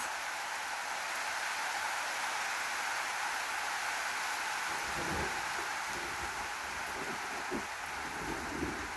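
Steady hiss of rain fills the whole stretch, with soft low rumbles and patters building in the second half as it draws nearer.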